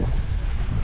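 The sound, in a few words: wind while sailing on a boat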